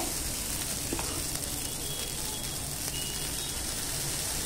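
Amboli rice batter poured onto a hot pan greased with oil hisses in a loud, continuous sizzle, dense and unbroken, with a faint clink or two beneath it.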